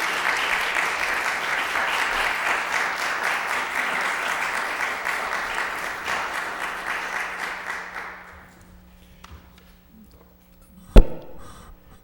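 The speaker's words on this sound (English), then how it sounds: "Please give them a round of applause," Loud, steady audience applause fills a school committee meeting in Lowell for about eight seconds, then fades out, leaving a quiet room with one sharp knock near the end.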